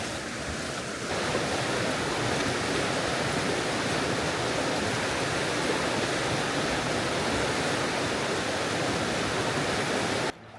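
Wild karst river Reka rushing through its canyon near Škocjan, a steady, loud broadband roar of fast water that holds constant throughout with no voices.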